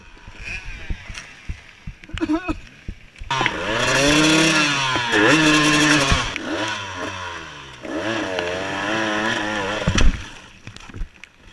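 A two-stroke motorcycle races up a steep hill at a hill climb event, its engine loud and straining in long rising and falling revving bursts, with brief outdoor noises in the pauses.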